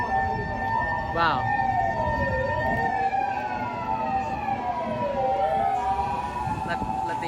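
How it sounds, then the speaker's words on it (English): An ambulance siren wailing along a street in Ikebukuro, Tokyo, its rising and falling tone loud and steady over traffic noise, pitch sliding as it passes; a person briefly exclaims. "Let the ambulance pass here."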